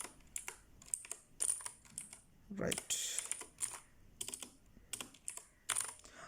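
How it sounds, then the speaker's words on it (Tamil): Rapid clattering keystrokes on a computer keyboard come in irregular bursts while writing C++ code, close and fairly quiet, with someone briefly speaking. "சும்மா ரெண்டுமே ஏதாவது ஒன்று டைப் பண்ணிக்கொள்கிறேன்."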